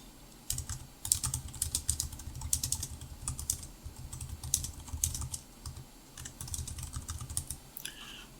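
Steady typing on a computer keyboard while composing a message in a chat app, with fast irregular clusters of clicky keystrokes running nearly the whole time, close and clear, with no talking.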